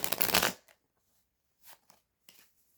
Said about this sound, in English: it took me like forever to be able to do that little like shuffle thing